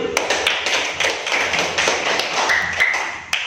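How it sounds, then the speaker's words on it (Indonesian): Students clapping in a classroom, a dense patter of many hands close by that swells and thins over a few seconds, with no talk over it. "Ayo kasih tepuk tangan dulu."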